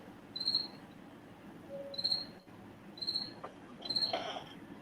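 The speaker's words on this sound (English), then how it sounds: "it's like a cricket is just like a symbol of boringness. It's in my background right now." Crickets chirping in the background indoors, four short regular bursts of high trilling chirps about a second apart, fairly faint over a quiet room hiss, with no talk.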